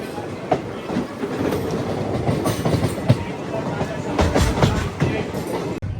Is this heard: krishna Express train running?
yes